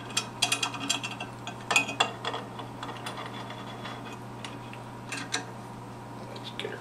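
Sharp metallic clicks and ratcheting taps come as a vise is clamped down to a workshop table, irregular close bursts that thin out toward the end over a steady low hum.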